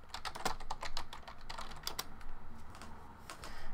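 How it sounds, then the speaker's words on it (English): Rapid typing on a computer keyboard, a dense run of close, crisp key clicks with uneven rhythm over a faint room hum, no talking. "So let's just type in racism."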